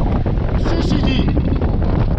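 Strong wind buffets the microphone aboard a sailboat at sea near the Balearic Islands, a loud, continuous roar with gusty swells and no break for the whole stretch.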